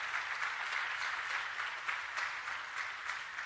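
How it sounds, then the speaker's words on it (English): Graduates at a College of Health and Human Services commencement ceremony break into a steady, dense round of applause, many hands clapping together continuously at moderate loudness throughout. "Yes, you can give yourself a round of applause."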